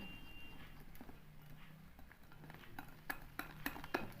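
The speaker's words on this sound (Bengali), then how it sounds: "সুন্দরভাবে কেকটা ওঠার জন্য এইবার এটা নেড়ে নিচ্ছি" Cake batter is stirred in a bowl, producing faint, soft mixing with light clinks of a utensil that turn sharper and more frequent toward the end, and no talk.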